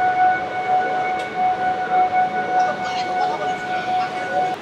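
Train pulling out of platform 6 at Bardhaman station, with a sustained steady tonal horn or siren over a rumbling train and station noise, and a voice talking throughout.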